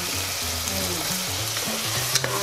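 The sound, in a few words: ghee sizzling in a hot pan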